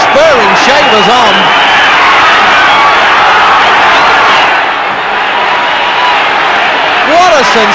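Boxing crowd roaring throughout a heavyweight fight between Larry Holmes and Earnie Shavers, a dense sustained wall of cheering with a commentator talking over it.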